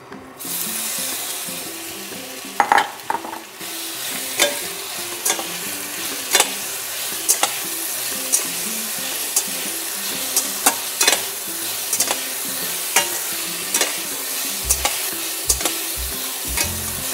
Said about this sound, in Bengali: সয়াবিনগুলো দিয়ে একটু ভালো করে সয়াবিনগুলোকে আমি ভেজে নেব।